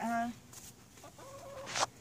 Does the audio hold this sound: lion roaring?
no